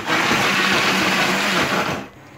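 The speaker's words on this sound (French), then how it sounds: "Un peu de poivron, hein, et je vais mixer le tout." Blender mixing bean batter with bell pepper, a loud steady whirring motor close up for about two seconds before cutting off.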